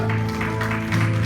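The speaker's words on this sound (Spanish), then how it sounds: "Dale un fuerte aplauso a él." A church congregation claps during a sermon, a short dense burst of applause over steady low organ or keyboard tones, fairly loud and continuous.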